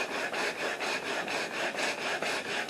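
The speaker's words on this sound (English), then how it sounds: "Now I will finish that up with a sanding block to smooth it out." A sanding block rubs back and forth along a wooden acoustic guitar neck, a rhythmic scraping with about a dozen even strokes, close and clear with no talk.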